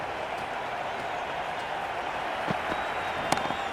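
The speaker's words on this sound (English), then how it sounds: "It's almost palpable, the excitement emanating from this crowd at the moment." A cricket stadium crowd during a Pakistan versus Australia match keeps up a steady roar and scattered applause, with a few sharp claps and hits near the end. A commentator talks over the noise.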